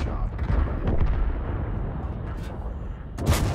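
An STA-2 tank fires a shot in a video game: a heavy, booming blast followed by a rumbling decay, with a fainter secondary crack near the end.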